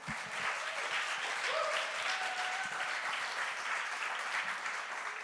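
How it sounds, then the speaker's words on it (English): Applause from an audience at a documentary film school premiere night, a sustained wash of many hands clapping, fairly loud and steady for several seconds without speech. "One more clap, guys."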